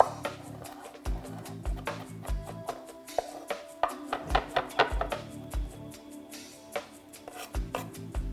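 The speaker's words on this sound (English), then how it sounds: "When you're cutting garlic or onions or anything, make sure you hold your hand like this." A knife chops garlic on a cutting board, a quick run of sharp, close taps in uneven bursts with short pauses between them, and no voices.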